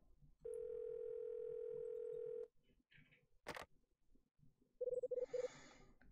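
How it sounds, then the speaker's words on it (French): A telephone in the video game Last Window is dialed: a steady dial tone holds for about two seconds, then a few short clicks, and later a quick burst of rapid tones, all loud and close. "le téléphone. Il faut que j'appelle Ed."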